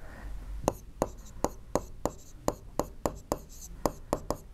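Pen writing out a geometry solution by hand on paper, a quick series of sharp, evenly paced strokes and taps close by, with faint speech in the background.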